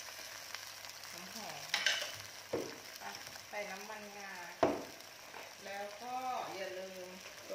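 Snow peas stir-frying with sesame oil in a pan, a soft sizzle with a few clanks and scrapes of the utensil, heard under a woman's speech.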